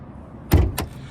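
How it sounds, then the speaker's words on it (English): A Dodge Charger RT's hood is popped: a sharp release clunk, then a second shorter latch knock a moment later, close and fairly loud against quiet surroundings. "Pop this hood."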